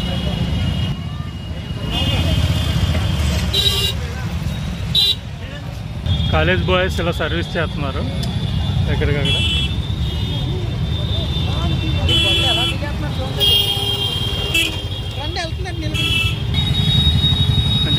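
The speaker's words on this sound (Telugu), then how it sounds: "ఇప్పుడు ఒక్క నిమిషంలో ట్రాఫిక్ జామ్ అయిపోయింది" Dense road traffic jam on the route to Prayagraj during the Maha Kumbh Mela, with engines rumbling and car horns tooting repeatedly, sometimes in long blasts, while someone talks throughout.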